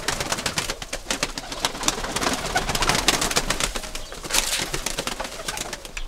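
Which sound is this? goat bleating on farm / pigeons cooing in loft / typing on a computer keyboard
pigeons cooing in loft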